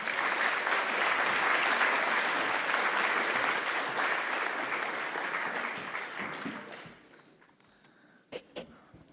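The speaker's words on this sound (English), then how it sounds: "Let's give him a big round of applause." Sustained applause from an audience at a United Nations event in Geneva, loud and dense for several seconds before thinning out and fading into a few scattered claps and quiet noises.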